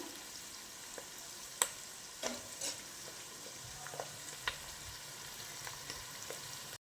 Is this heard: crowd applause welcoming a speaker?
no